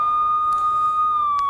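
A breaking news siren sound effect with a steady wailing electronic tone that holds and slowly dips in pitch, sounding alone and loud, with brief bright clicks partway through.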